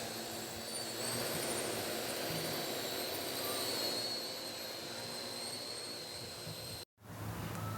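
A small drone flies outdoors with a steady, high-pitched whine and rushing hum that holds even and fairly loud, cuts out abruptly for a split second near the end, then returns.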